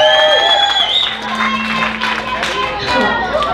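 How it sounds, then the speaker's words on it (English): A rock show crowd claps and cheers for the bass player, dense applause mixed with shouts and babble, loud and close, rising again toward the end. "Let's give her a round of applause."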